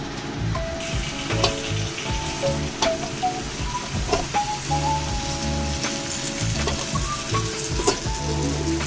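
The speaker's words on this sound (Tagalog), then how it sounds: "Iprito na natin ang isda na yan." Fish frying in a pan with dense, steady sizzling and crackling that runs throughout at close range, broken by scattered sharper pops and light clatters of stirring.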